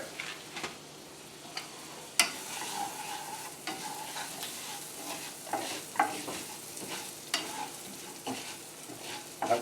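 Orzo pasta sizzling and browning in a hot pan on a stove, a steady close frying hiss broken by frequent scraping and clicking from stirring.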